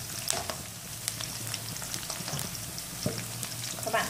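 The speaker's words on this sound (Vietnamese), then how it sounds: "Các bạn rán qua gà cho mình." Chicken pieces frying in a pan over medium heat after lemongrass and shallots have been sautéed, a steady close sizzle with occasional crackles and stirring, no talk.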